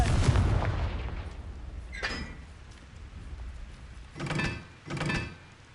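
Confringo explosion spell cast in Hogwarts Legacy, a video game: a loud blast at the start, a sharper crack near two seconds, then two further booming bursts in close succession, with no talk.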